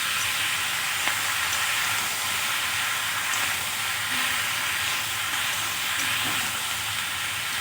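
Chopped tomatoes and chili powder being mixed in a hot frying pan with onion greens, giving a steady, loud broadband sizzle and hiss with a few faint clinks of stirring throughout.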